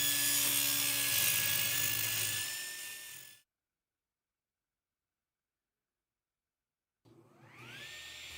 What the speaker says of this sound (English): Here it is cutting through, I think this is 2¼ inches of oak